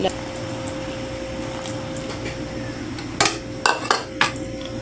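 A spoon stirs sugar melting in water in a pot for glutinous sticky rice with mango, with a steady low kitchen hum and a few sharp metallic clinks against the pot toward the end.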